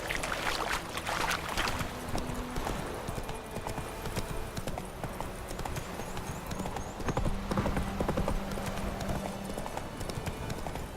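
Horse hooves gallop in The Witcher 3 video game, a fast, steady clip-clop rhythm that runs loud and close throughout, with faint ambient game sound beneath.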